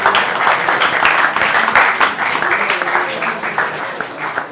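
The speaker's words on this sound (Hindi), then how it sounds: "आप सब तालियों से स्वागत कीजिएगा उनका। बहुत बहुत तालियां।" Audience applause welcoming a poet on stage at a Holi mushaira, a dense, steady wash of many hands clapping that holds for several seconds at fairly strong level, with some crowd voices mixed in.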